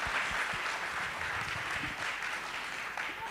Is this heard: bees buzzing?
no